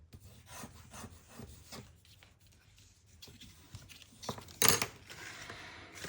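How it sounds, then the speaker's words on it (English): Close, dry rubbing and scraping of paper being burnished onto a shadow box, short strokes repeating in uneven bursts, with one sharper scratch near the end. "Burnish it well."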